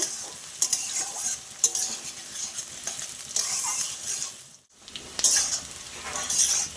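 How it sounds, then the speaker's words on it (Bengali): Sliced onions sizzle and fry in a hot pan, with steady scraping stirs and occasional clinks of a utensil against the metal; close, continuous crackle with a brief lull midway, and no talking. "পেঁয়াজটা দিয়ে আমি আরও খানিক্ষণ ভেজে নেব"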